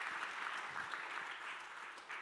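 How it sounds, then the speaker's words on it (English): An audience at a corporate sustainability report launch gives a steady round of applause, with dense, continuous clapping at a moderate distance. "Please give Alexander a warm round of applause for that."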